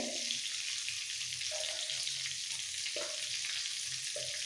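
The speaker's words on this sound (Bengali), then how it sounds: "ফোড়নটাকে একটু ভেজে নেব।" Cinnamon pieces, cloves, cracked cardamom and cumin seeds fry in hot oil with a steady, close hiss, and a few short clinks of a utensil come through over the continuous sizzle.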